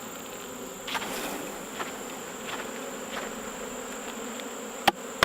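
Honey bees hum in a steady, dense drone as they are shaken into a hive, close and moderately loud, with a few soft thumps and two sharp knocks near the end.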